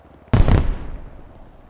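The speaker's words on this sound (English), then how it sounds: "What is this? Fireworks!" A single loud firework burst in a video game, a sharp close bang that booms and crackles briefly before decaying into a fading rumble, with no talk over it.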